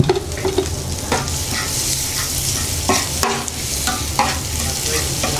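Sucuk slices sizzling on a hot griddle for a pressed toast with cheese and egg, a loud continuous frying hiss with scraping and stirring clatters throughout.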